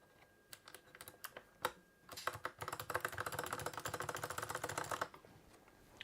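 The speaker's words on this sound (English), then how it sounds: "I do love this keyboard, it is very noisy." Mechanical keyboard being typed on, a Corsair K70 with Cherry Red switches or an MSI GK50 Elite: scattered clacks first, then a fast dense burst of rapid keystrokes before it stops, close and crisp.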